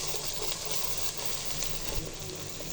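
Beaten egg hits a little hot oil in a pan for egg vegetable fried rice, giving a close, steady hissing sizzle with no voices.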